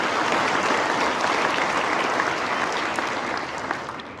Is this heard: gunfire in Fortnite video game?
no